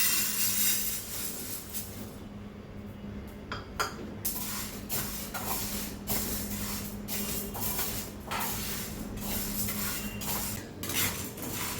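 Sago pearls stirred and dry-roasted in a pan, producing a rattling, hissy scrape with repeated clinks of the spoon against the metal, close and fairly loud, with no speech.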